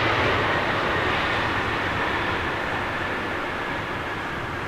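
A British Airways aircraft moves along a runway at Heathrow with a loud, steady roar of engines and rushing air that fades slightly toward the end, with no talk.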